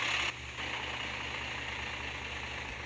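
A truck engine in the Euro Truck Pro 2018 driving game drones as a steady, close mid-pitched hum, with a brief louder burst at the start, then an even, sustained roar with no talking.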